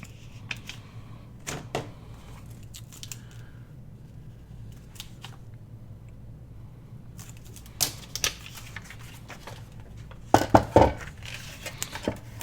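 Scissors snip through vellum and book page paper for journal pockets, producing scattered quiet crisp clicks and cuts, with a brief flurry of sharper snips near the end, close and without talk.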